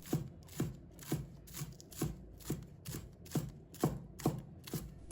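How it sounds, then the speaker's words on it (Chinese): A kitchen knife chops a bunch of scallions into small pieces on a cutting board, about ten crisp, evenly spaced chops in a steady rhythm, close and clear with no talking. "再准备1把小葱，把它切成葱花"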